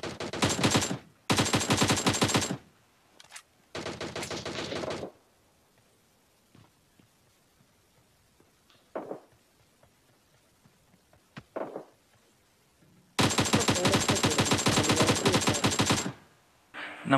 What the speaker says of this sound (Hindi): यहाँ से गन्स की आवाज़ आ रही है, गोलियों की आवाज़ आ रही है